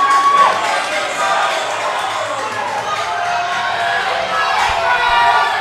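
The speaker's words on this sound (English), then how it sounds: "The crowd's going nuts, man. It's getting loud in here." A loud crowd cheering and shouting at a fitness competition in an indoor arena, with a commentator talking over the roar.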